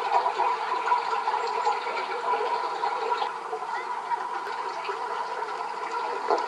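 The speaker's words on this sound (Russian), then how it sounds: "Под каменной рекой течет. Конечно, ее тут не видно, она там глубоко. Вниз глубоко течет, но слышно." Water runs deep beneath a boulder field on the Taganay ridge in the Southern Urals, a steady muffled rushing that holds an even level throughout with no talk over it.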